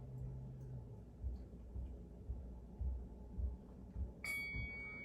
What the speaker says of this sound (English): When you hear that chime, you'll slowly roll it up.